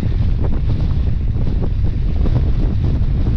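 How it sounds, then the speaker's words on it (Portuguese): Strong wind buffets the microphone on an evening mountain bike trail ride, a constant loud roaring rumble with gusty fluctuations and no pauses. "Vento da fera."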